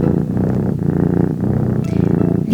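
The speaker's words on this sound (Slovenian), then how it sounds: "Dokler niso spet zaslišali še glasnejšega brnenja." A loud, close, continuous purring hum like a cat's, pulsing steadily in rhythm with no voice over it, heard during a bedtime story about a thread-spinning mill.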